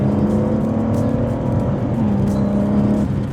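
A Maserati Ghibli with a Ferrari-built V6 hums steadily under acceleration from inside the cabin, with a smooth continuous engine drone and a slight pitch shift partway through.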